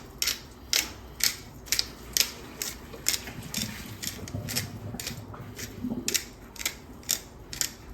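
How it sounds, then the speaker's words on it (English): A pepper mill grinding pepper onto a raw steak, its ratcheting clicks coming in a steady rhythm of about two per second, close and crisp with no voices. "And then we're gonna grind some pepper right on the top."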